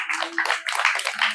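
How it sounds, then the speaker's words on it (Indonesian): A group in a scout training session claps hands together in a dense, steady burst of applause with a faint voice underneath. "tepuk tangan ya"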